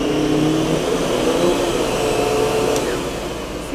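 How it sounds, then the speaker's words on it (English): Miele Home Care vacuum cleaner running on a carpet indoors, a loud steady motor whine and airflow hum that holds constant and drops slightly near the end, with no talk. "See if you can vacuum all that dirt off of the carpet."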